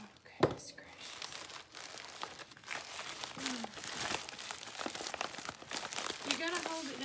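Mail package being torn and handled at close range, with dry crinkling and crunching of paper and plastic in bursts, while people talk over it.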